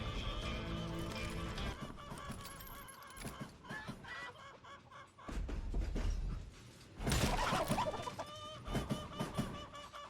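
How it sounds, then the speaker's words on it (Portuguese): Chickens cluck in the Western shooter Call of Juarez Gunslinger, a busy mix of clucks alongside other game sounds, with louder bursts late in the stretch. "que aleatório essas galinhas aqui"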